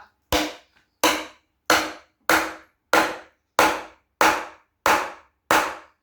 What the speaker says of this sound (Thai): ตอกเข้าไปเลยครับ